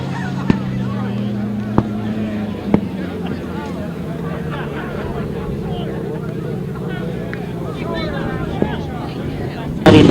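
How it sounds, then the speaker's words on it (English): Sidecar motorcycles race around a grasstrack circuit, their engine noise droning in the background beneath continuous commentary, with a few sharp clicks and a loud burst at the end. "And that turned out to be some brilliant sidecar racing."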